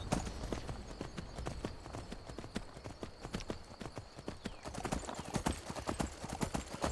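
Horse hooves clip-clop steadily and close in the video game Skyrim, a continuous run of sharp, evenly paced strikes over faint ambient background.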